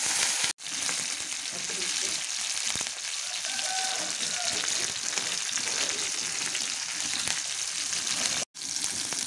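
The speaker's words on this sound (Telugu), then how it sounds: "పచ్చిమిరకాయలు ముందు కొంచెం వేయించుకుందాం" Green chillies fry in oil in a pan for a coriander chutney, giving a loud, steady sizzle that is close and continuous, with a short break near the start and another near the end, and faint speech underneath.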